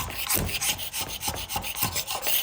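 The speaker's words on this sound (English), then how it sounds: "a scraper just sort of bluntly pushes the bit of wood glue away, never ever catches the grain" A scraper rasps over wood, pushing dried wood glue residue away in quick, rhythmic back-and-forth strokes, close and fairly loud, with no talking.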